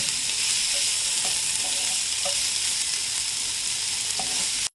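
Onions fry in a pan and a spoon stirs them now and then, giving a loud, steady sizzle close by with a few soft scraping taps and no voices.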